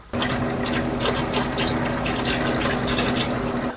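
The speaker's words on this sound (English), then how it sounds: "Okay, so we're gonna let the transmission fluid drain." Transmission fluid drains from an Allison transmission in a steady, close pour that runs continuously for a few seconds after a sudden start, with no speech over it.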